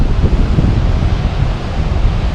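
Sea waves and wind at Karimat beach in Morocco: a loud, continuous roar of surf mixed with gusty wind buffeting the microphone, with no voices.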